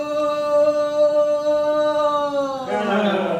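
A performer on stage imitates the sound of drawing water from a village well worked by bullocks and a leather bucket, a steady sustained droning tone that shifts into a busier, rougher texture near the end.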